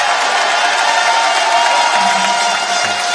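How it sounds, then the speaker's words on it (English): A packed indoor arena at the European Indoor Archery Championships finals in Vittel roars with sustained cheering and applause in a standing ovation, a dense continuous wall of crowd noise with no break. "A standing ovation from the crowd."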